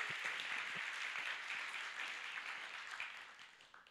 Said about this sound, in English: And just let's warm a round of applause for Nicole